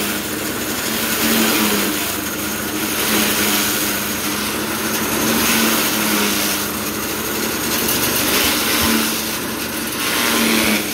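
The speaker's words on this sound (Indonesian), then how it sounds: "Pengiriman dan uji coba 1 unit mesin chopper." A multifunction chopper machine for shredding and grinding runs during a delivery test, giving a loud, continuous motor roar with gentle swells in pitch and no talking.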